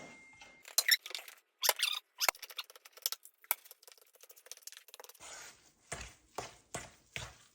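A spoon stirs cheese in a bowl for an old-style bun recipe, giving faint, irregular scraping squeaks and soft taps, quiet and close, followed by a denser rhythmic patter of mixing strokes.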